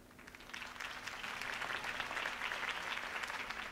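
Crowd applause for a campaign speech in Batman The Telltale Series, a steady dense clapping that swells slightly and holds for several seconds with no talk over it.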